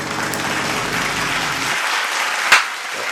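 A short burst of applause at a podcast taping, dense clapping for under two seconds that stops abruptly, followed by a single sharp clap.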